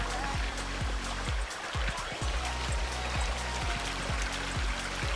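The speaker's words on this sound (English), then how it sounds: "It's right on the stream." Buffalo Creek runs past a campsite on the Colorado Trail, a steady close wash of flowing water with a repeating low rhythmic knock throughout.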